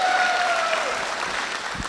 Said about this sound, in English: Big round of applause, gentlemen. Very big round of applause.